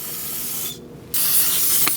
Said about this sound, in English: Use some brake parts cleaner and clean that up.